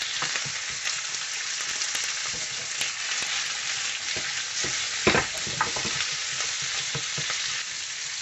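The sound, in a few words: chicken jalfrezi ingredients frying in a pan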